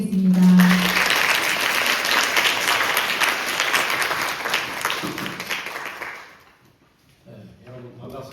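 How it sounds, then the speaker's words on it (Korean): Large audience bursts into sustained, dense applause welcoming a university president at a supporters' launch ceremony, steady and loud for several seconds before fading out, with a voice speaking briefly near the end. "백석대학교 송기신 총장님을 큰 박수로 모시겠습니다."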